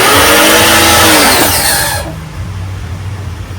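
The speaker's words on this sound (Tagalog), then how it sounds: "So, ngayon, on na natin itong pressure washer." A gasoline pressure washer engine kicks on loud and close, its broadband roar and rising whine filling the first two seconds before settling into a steadier, lower running drone.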